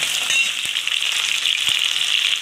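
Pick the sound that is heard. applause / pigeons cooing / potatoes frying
potatoes frying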